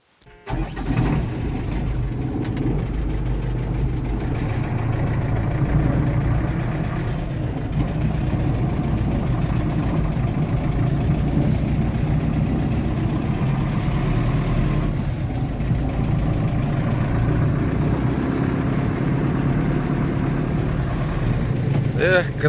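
A car engine drives over a rough, bumpy rural road: a steady low rumble and rattling from the shaking ride, continuous and fairly loud for the whole stretch.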